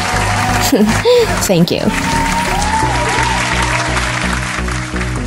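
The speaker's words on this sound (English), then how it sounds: "Can I have a round of applause, please?" Applause welcomes viewers to a home nail polish collection vlog, a broad steady wash that runs the whole stretch with a voice speaking briefly over it near the start.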